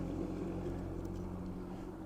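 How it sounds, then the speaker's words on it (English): A tractor drives by near a riverside spot used for magnet fishing, a steady low engine rumble with a droning hum that holds at an even level through the short stretch, with no talk over it. "Tractor going by."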